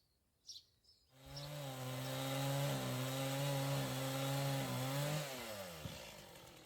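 A power saw cuts through stone and a wooden beam in an old bread oven being converted into a studio, a steady loud whine starting after a brief knock and holding for several seconds before dropping off.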